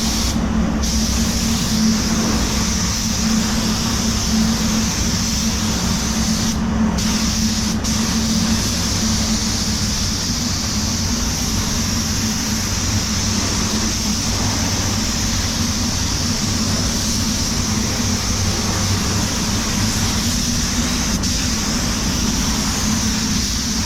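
A 3M Performance spray gun paints a Suzuki Vitara, giving off a loud, continuous hiss that holds steady for the whole stretch over a low background hum.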